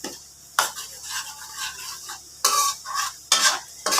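Coconut milk simmering in a pan with winged beans, the oil separating from it; bursts of close sizzling alternate with stirring and clinks of a utensil against the pan, with no talking.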